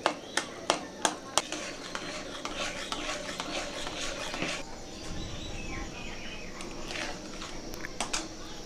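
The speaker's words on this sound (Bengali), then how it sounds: "চিনিটা ভালো করে ঘেটে নিচ্ছি।" Sugar being stirred as it caramelizes to brown in a pan: a run of sharp utensil taps against the pan, then steady scraping and rubbing strokes, with faint birdsong and occasional voice in the background.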